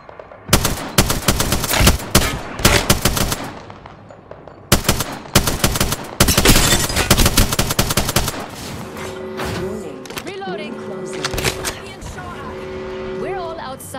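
Rapid automatic gunfire in a video game, bursts of loud shots in the first half with a voice calling out, then fainter gunfire under electronic tones and background game sounds.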